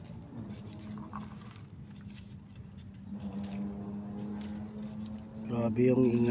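Loud, steady engine drone of a small motorized boat carrying riders on a fishing outing near Aguila, Bacolod, rumbling continuously and swelling louder toward the end, with voices talking over it.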